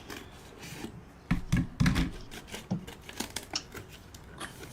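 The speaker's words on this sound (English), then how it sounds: "The scissors work much better." Scissors snip through thick craft material at close range, a few rough cutting crunches and rasping strokes in an uneven sequence, fairly quiet with no talking.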